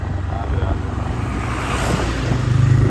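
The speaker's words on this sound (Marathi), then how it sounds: "निमगाव मध्ये गाड्यांची गर्दी" Vehicle traffic crowding the road in Nimgaon on a cold night, a steady broadband rumble of engines and passing vehicles with faint voices underneath.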